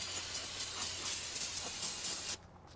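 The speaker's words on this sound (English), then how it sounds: "Just spray it off with some brake clean." Brake cleaner sprays from an aerosol can onto Subaru Legacy front brake parts, hissing loudly in repeated pulses, then cuts off abruptly near the end.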